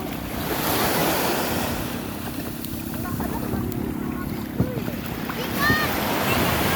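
Sea waves washing onto a beach on a Zambales island, a continuous rushing surf with wind buffeting the microphone, loud and near, while voices chatter faintly in the background.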